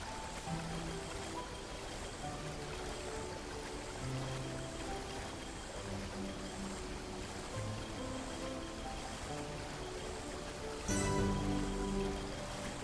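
A waterfall in the video game Xenoblade Chronicles rushes as a steady, faint wash of falling water. Soft game music plays over it and swells near the end.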